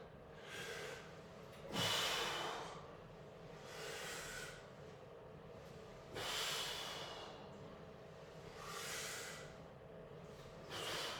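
Slow, audible breaths in and out during a stretching exercise, several long airy inhales and exhales in a steady rhythm, close and soft over a faint background hum.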